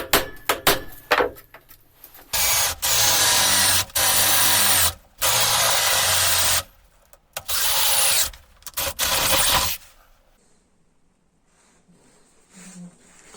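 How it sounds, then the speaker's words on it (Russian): A power drill fitted with a hand-sharpened bit with relieved cutting edges bores through material in several loud, whining bursts separated by short pauses, then falls quiet near the end. "все четко просверливает"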